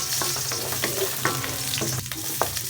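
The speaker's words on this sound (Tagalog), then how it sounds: "nagisa lang ako ng bawang" Garlic sautéing in a pan sizzles steadily, with occasional stirring scrapes and clicks of a utensil across the pan, close and continuous.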